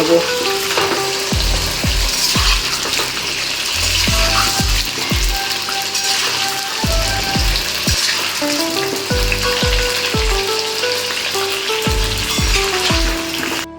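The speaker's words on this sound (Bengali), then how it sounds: "এক এক করে আলুগুলো ছেড়ে দেবো সব আলু আমি ছেড়ে দিয়েছি এবার একটু ভালো করে ভেজে" Potatoes frying in hot oil in a pan for a mutton curry: loud, close, continuous sizzling with repeated stirring scrapes and clinks in an irregular rhythm.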